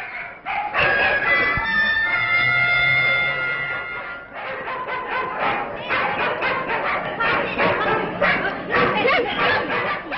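A pack of stray dogs in a neighbouring house in central Bucharest barks continuously, a chorus of overlapping yelps and bow-wows at moderate distance, with a voice talking over them.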